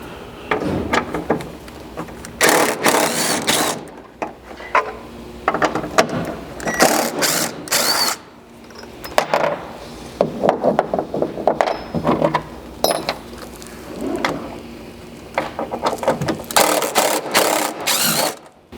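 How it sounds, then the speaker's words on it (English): Ratchet clicking in repeated bursts as factory tie-down hook fasteners come out of the bed side of a Ford Maverick, with clanking handling noises and short pauses between rounds, close and fairly loud. "you're going to have to remove the 3 factory tie-down hooks that you have inside of here."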